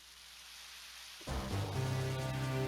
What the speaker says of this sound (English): I don't know why this is, but it just rains here.